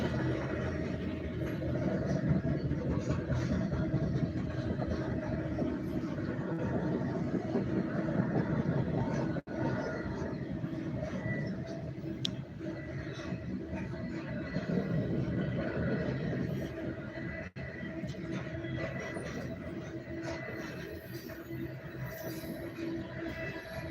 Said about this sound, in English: A lot of grain hoppers on this train.